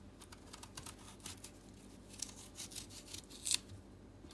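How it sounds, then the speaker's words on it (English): Knife scraping and peeling the brown skin from eddo roots, close by, with a soft run of small rasping strokes and scratches and one sharper scrape near the end. "First, I'm going to start peeling the eddos."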